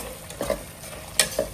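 A spoon stirs roasted ground mustard-fenugreek powder into prawn pickle frying in oil, with a few quick scraping strokes over a soft sizzle, close and fairly quiet.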